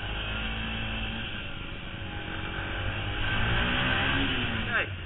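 Yamaha WRX125 motorcycle engine riding on the road, a steady close drone that swells louder midway as the rider opens the throttle, with a brief pitch sweep near the end and wind noise throughout.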